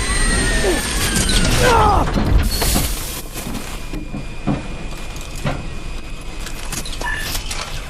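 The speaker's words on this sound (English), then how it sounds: "Close the blast seal!" A blast seal door in the video game Call of Duty: Advanced Warfare grinds shut with loud mechanical clanking and metallic scraping, heaviest in the first few seconds, then a dense rumbling mechanism continues amid game noise.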